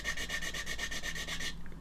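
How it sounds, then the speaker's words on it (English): A sanding stick rubs at an angle along a seam on a plastic model kit, a steady close back-and-forth scratching of about a dozen quick strokes that stops abruptly near the end. "I'm using the sanding stick at an angle which is encouraging me not to sand here"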